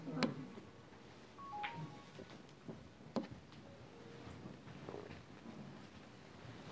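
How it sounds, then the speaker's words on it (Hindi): Somewhere in a quiet room a phone rings, sounding as a few faint, brief electronic tones over a low background hum. "फ़ोन क्या आ रहा है?"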